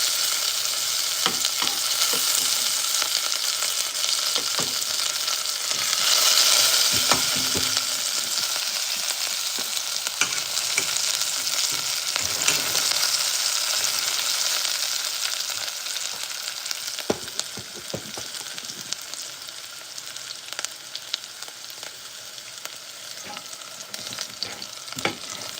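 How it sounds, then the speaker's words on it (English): Onions fry in a hot pan, giving a steady, close sizzle with bursts of crackle and occasional scraping clicks from stirring. No voices are heard. "I'm gonna add the onions now."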